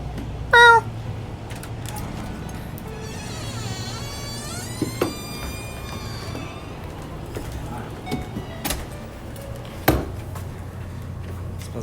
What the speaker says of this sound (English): What is that? That's the cat.